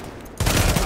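Gunfire in the video game Tom Clancy's The Division: after a brief quieter stretch, a loud, dense burst of rapid automatic shots takes over and continues to the end.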